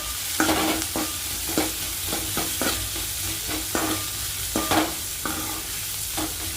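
Onions sauté in a pan for egg curry, a continuous sizzle with repeated sharp scraping strokes of a spoon stirring them at an uneven rhythm, close and moderately loud with no talk.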